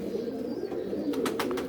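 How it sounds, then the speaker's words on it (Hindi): A Salati Ferozpuri pigeon kept for breeding coos softly in a few low, rolling pulses, close by under a steady low background hum, with no talking. "बहुत सियाना कबूतर है"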